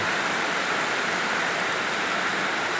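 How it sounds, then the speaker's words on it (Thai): Steady broadband hiss of rain falling continuously, even and moderately loud with no voices, like a downpour on surfaces nearby. "ฝนตกทุกวัน ฝนตกที่คลองไอเชน"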